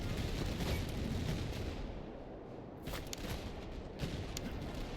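Musket volleys in Master of Command, the period battle game, pop in bursts over a constant rumble of battlefield noise; two clusters of shots stand out against the wash, moderately loud and slightly distant.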